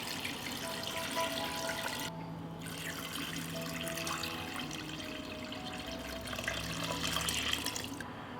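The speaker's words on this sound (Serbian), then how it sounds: "U šerpu sipam 2 litre vode." Two litres of water poured into a pot holding cut oranges and a peeled, chopped lemon, a steady splashing pour running for several seconds with brief lulls, close by and alone.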